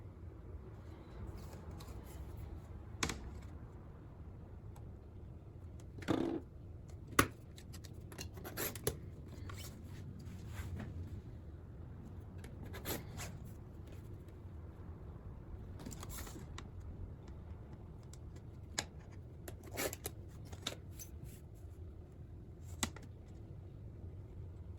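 Scissors snip through excess quilt batting while a fabric pin cushion square is trimmed, giving faint, scattered cutting clicks and rustles over a low background hum.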